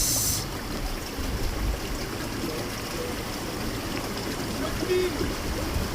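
Water flowing through a channel on a rainy morning, a constant rushing trickle that stays even and fairly loud throughout with no break.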